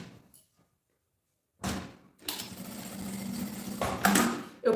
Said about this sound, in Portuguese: Eu passei a costura aqui na pontinha, com retrocesso vai e volta, pra ficar bem seguro.